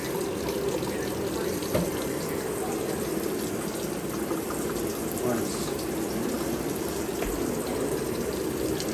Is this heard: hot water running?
yes